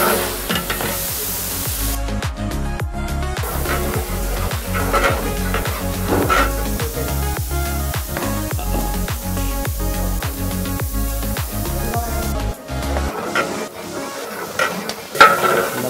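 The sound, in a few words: onions frying in oil for Vaniyambadi mutton biryani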